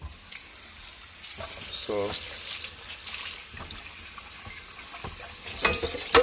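Water running from a tap while a cooking pot is scrubbed clean, splashing and gurgling in bursts with scraping clatter, under brief talk.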